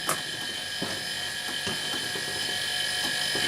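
A small 2.6-amp air compressor runs steadily with a constant mechanical whir and faint ticking rattles, moderately loud and close, with no voices.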